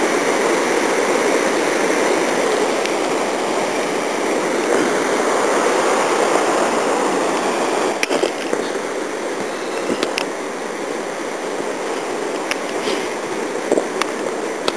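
River beside a forest hiking trail near a swaying footbridge, mossy woods in Nelson Lakes, rushes in a steady, loud, broadband wash throughout, with a few faint clicks and knocks over it and no talk.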